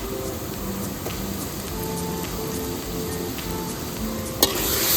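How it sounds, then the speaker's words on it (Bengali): Garlic paste frying in hot oil after onions, a steady close sizzle and crackle with a faint stirring scrape and a single clink near the end. "রসুনটাকে একটু ভালো করে কষিয়ে নেবো যতক্ষণ না রসুনের কাঁচা গন্ধটা চলে যায়"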